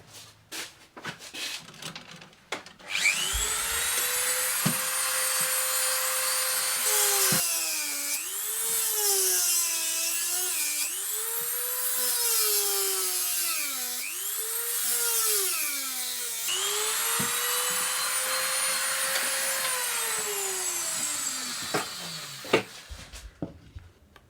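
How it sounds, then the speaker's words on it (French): Drill boring holes into a wooden part, a sustained whine that rises and falls in pitch as the bit loads and eases, broken into several passes after a few seconds of handling noise, close and loud with no talk. "Je vais percer un trou là et là."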